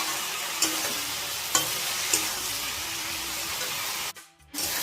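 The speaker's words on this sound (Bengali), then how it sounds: "ভালো করে এবার ভাজছি।" Fenugreek greens fry with salt and turmeric in a pan, a loud, dense, continuous sizzle broken by a few clanks of stirring and a brief pause near the end.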